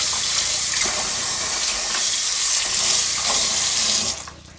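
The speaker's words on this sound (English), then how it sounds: "Washing them off with cold water." Cold tap water runs steadily into a sink with a splashing, broadband rush, rinsing food under the stream before the flow cuts off near the end.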